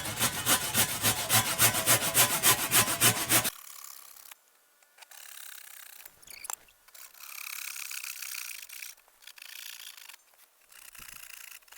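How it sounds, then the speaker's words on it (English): A hand saw cuts through a wooden pallet piece with a quick, steady run of close rasping strokes, followed by quieter handling noises and scattered knocks. "I actually have to cut this entire piece as well, so the other pallet can rest on those corners here"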